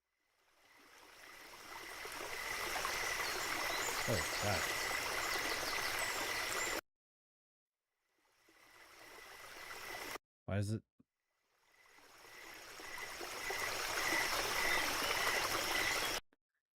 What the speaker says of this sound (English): It's the water sounds the exact same in this entire album.